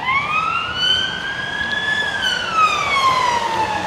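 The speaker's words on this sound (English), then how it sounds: "More blinking sirens." An emergency vehicle siren wails loudly on a London street, one long rising and falling sweep close by over steady traffic noise, with no voices.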